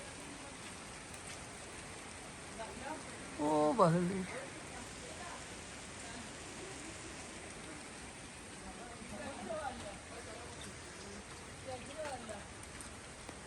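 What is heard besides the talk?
rain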